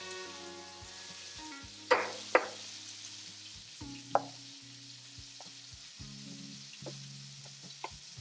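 Chunky mozzarella keto waffle batter cooking in a waffle maker, a quiet crackling sizzle with a few sharp clicks and taps, close and without talk.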